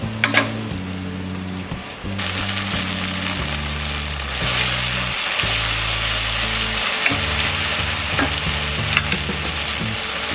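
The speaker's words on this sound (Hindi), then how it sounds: "टमाटर सॉफ्ट होने तक हम इसे फ्राई करेंगे." Tomatoes fry and get stirred in a pan for millet khichdi, a loud continuous sizzle up close with scraping stirs and light clatter throughout, and no talking.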